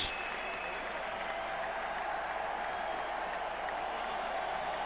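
A large stadium crowd applauds and cheers steadily at the Santiago Bernabéu in Madrid, a dense, even wash of clapping and crowd noise heard from a distance, with no single voice standing out.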